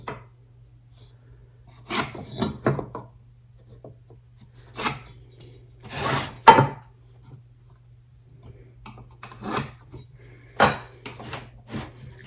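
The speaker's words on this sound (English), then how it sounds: "Now you can scribe these lines" A pencil or scribe draws lines along a speed square on a 2x4, producing short scratchy strokes and light knocks spaced irregularly, close and quiet over a steady low hum.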